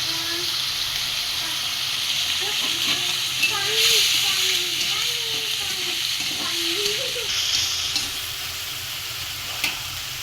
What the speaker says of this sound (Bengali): এখন গোশগুলো হালকা করে ভেজে নেব।